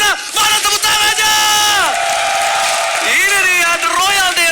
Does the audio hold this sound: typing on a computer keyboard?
no